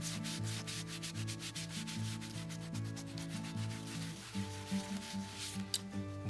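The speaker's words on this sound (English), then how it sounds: "you do a bit of that buffing now to get the excess dye off the surface" Repeated rubbing strokes of a cloth buffing excess water-based dye off a leather surface, soft and close, in a steady back-and-forth rhythm with no talk.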